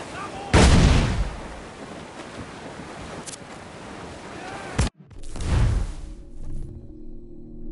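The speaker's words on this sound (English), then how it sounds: "Cannon ready! Incoming fire!" Two heavy ship cannon blasts boom out several seconds apart in Assassin's Creed Black Flag, each followed by a rumbling decay, over wind and sea ambience with faint voices.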